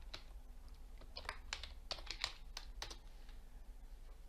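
Soft, quiet typing on a computer keyboard while entering spreadsheet headers in Microsoft Excel, irregular clusters of keystrokes with brief pauses and no talking.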